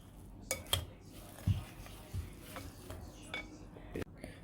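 Carrot muffin batter being stirred by hand in a bowl with a utensil, with soft scraping and a few sharp clinks against the bowl, quiet and close, without any mixer.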